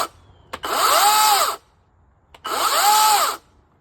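An Ego battery chainsaw whirs up in two bursts of about a second each, a steady high motor whine with a short pause between them.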